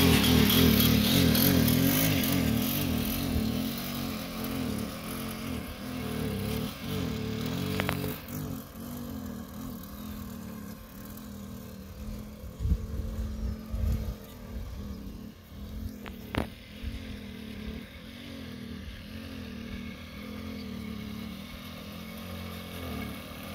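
A Puch Maxi moped engine runs steadily with a loud buzzing drone, then falters and sputters as it runs out of gas, with uneven surges and dips near the end.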